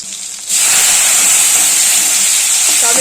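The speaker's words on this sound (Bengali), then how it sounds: "কাঁচা লঙ্কাও তেলের উপরে দিয়ে দিলাম" Green chillies and bay leaves hit hot oil in a pan for a mung dal dish with snake gourd, breaking into a loud, steady hiss and sizzle after a quiet half second, with no talking.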